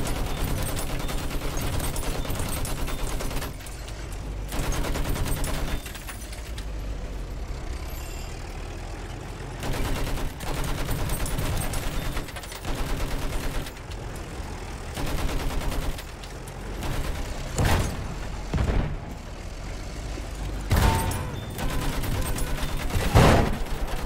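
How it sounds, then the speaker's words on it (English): Sustained machine gun fire aimed at an enemy tank in the video game Battlefield 1, loud dense bursts with short gaps over a rumbling battlefield background. "It's just shooting with a machine gun consistently on an enemy tank."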